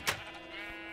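A Minecraft sheep lets out one short bleat while being sheared, clear and close, followed by a quiet tonal hum.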